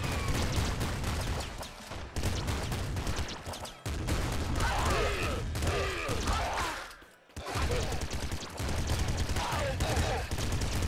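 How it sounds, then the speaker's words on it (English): Rapid Gatling Slugger gunfire in the game Nuclear Throne, dense repeated shotgun-like blasts running in long bursts with brief pauses, loud and continuous, with a voice talking over part of it. "God, this Gatling Slugger is just too good."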